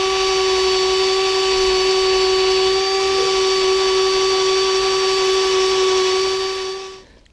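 An elderly Black & Decker power tool from around 1978-79, used to remove rust from a bicycle, runs with a loud, steady, high-pitched whine close by, then winds down and cuts off near the end.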